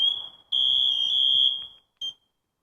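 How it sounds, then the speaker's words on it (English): An SCBA PASS device goes into full alarm with a loud, piercing electronic tone held for over a second, followed by a short final beep, close and alone. "push and hold your red button to go to the full alarm"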